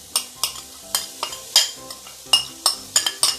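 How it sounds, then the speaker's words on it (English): A blended vegetable paste sautés in oil in a cast iron pot while a utensil stirs it, giving about a dozen sharp scraping clinks at an irregular rhythm over a soft, steady sizzle, close up and without talk. "So we are going to saute this, yeah, that we already blended just now."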